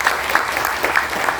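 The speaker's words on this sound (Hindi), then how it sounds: "तालियां बजाने" Brief applause from an audience at a Brahma Kumaris gathering for bus drivers and conductors, a short burst of steady clapping at moderate volume.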